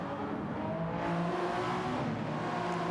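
Several hypercars race at Monza in an endurance racing game, their engines holding a steady, loud, close drone with layered revving tones as they run nose to tail.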